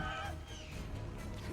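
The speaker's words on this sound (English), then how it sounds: "And there's chickens amongst them." Chickens cluck among other creatures in the Immortals Fenyx Rising video game, a steady fowl chatter layered over dense game ambience, with no talk.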